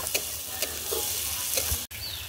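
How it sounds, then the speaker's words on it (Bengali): Chopped capsicum and tomato sizzle steadily in a hot pan, with several scraping stir strokes from a spoon or spatula against the metal, close and clear with no voices. "এবার আমি দিয়ে দিচ্ছি ক্যাপসিকাম কুচি, তার সঙ্গে দিয়ে দেব টমেটো কুচি। একটু ভালো করে নাড়াচাড়া করে নেব।"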